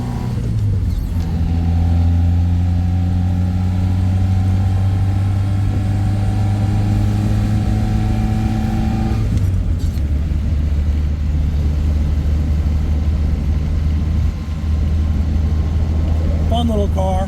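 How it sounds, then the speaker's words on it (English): A 1968 Fiat 850 Spider's small 30-horsepower engine with a dual-throat Weber carburetor revs up strongly, holds a rising drone, then drops back to a lower steady running note, close by. "You can hear that little dual throat Weber open it up."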